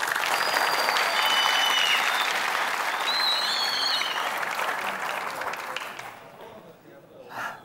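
A studio audience on the Afghan Family Feud game show Ro Dar Ro applauds a contestant, with steady, loud clapping that fades near the end to a brief burst.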